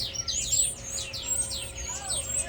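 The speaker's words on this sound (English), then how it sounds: "Golden weaver" Golden weaver birds call at a zoo, a rapid run of bright, repeated chirps and rising-falling notes over a steady background hum, close and clear throughout.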